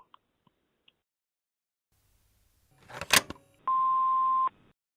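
A telephone being dialed: a short rustling clatter, then a single steady electronic tone that holds for under a second, clear and close with no talking.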